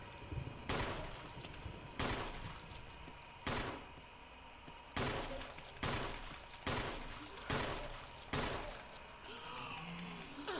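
Gunfire in the Resident Evil video game: about seven sharp, loud shots spaced roughly a second or more apart, each followed by a brief decaying tail over a faint steady background.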